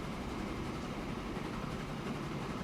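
A freight train rolls along a line in the Transport Fever railway game, a steady low rumble with faint rhythmic clatter, continuous and even throughout with no talk.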